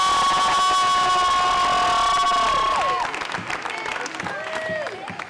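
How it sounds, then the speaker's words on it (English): A crowd at an election victory celebration for Tommy Calvert applauds and cheers for block walkers, the noise carrying steady high tonal blasts that bend and fade partway through, with excited shouts continuing after. "Give them another big round of applause."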